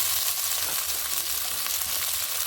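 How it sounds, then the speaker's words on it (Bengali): Vegetables including broad beans, potato, radish and eggplant frying in hot oil in a wok, a steady, dense crackling sizzle heard close up, with no talking. "তেলটা গরম হয়ে গেছে, এখন সবজিগুলো দিয়ে দিব।"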